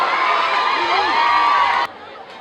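A crowd cheering and shouting loudly, with whoops rising over a dense roar that cuts off abruptly near the end.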